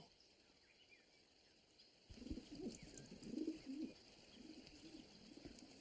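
Pigeons or doves cooing in an anime scene where someone is feeding birds, with soft repeated coos rising close by after a quiet start, over a faint background hiss.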